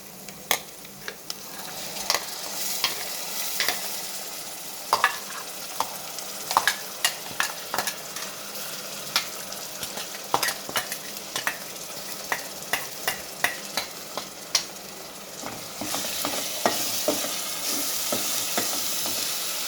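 Fish curry sizzles and fries steadily in a pan as tomato paste is stirred in, with frequent sharp clinks and scrapes of a utensil against the pot over the continuous hiss.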